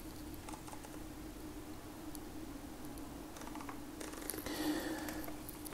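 Quiet, irregular small clicks and ticks of a Sony 135mm f/1.8 G Master lens aperture ring repeat over a steady low hum, with a slightly busier burst of clicking near the end.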